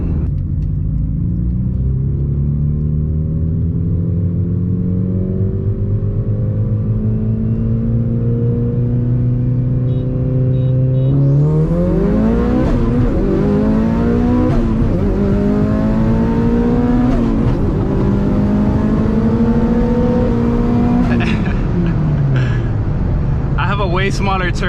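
Evo 8 and Evo X turbocharged cars, 400 and 600 wheel horsepower, pull hard in a 20 mph roll race: a loud interior engine drone climbing through rising gear sweeps, with turbo whoosh and shift breaks, and a voice talking over it.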